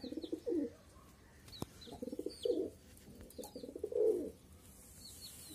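Pigeons coo softly in low, throaty bursts, several repeated calls spread across the moment, faint and fairly close, with small chirps and a flutter in the background.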